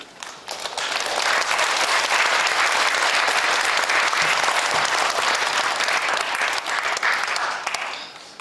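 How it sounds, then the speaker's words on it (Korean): A church audience at a Daegu presbytery gathering breaks into loud, sustained applause welcoming a lecturer, rising quickly, holding dense and steady for several seconds, then tapering off at the end. "이제 강사님 나오실 때 큰 환영과 격려의 박수를 드리겠습니다"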